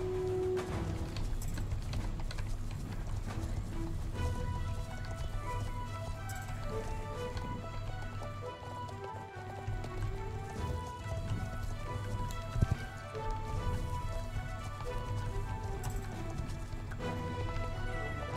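Horse hooves clip-clop in the video game Star Stable Online, a steady rhythmic trot under continuous melodic game music, fairly close, with a brief louder knock near the end.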